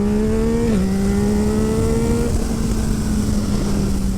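A Yamaha MT-09 fitted with a full Akrapovic exhaust, ridden past at a steady, loud drone that dips slightly as the rider shifts and then holds even, with wind rush underneath.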